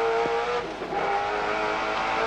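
A touring car at speed through a fast section of Mount Panorama during the 1992 Bathurst 1000, a loud sustained engine drone that dips briefly and then holds steady, close and alone.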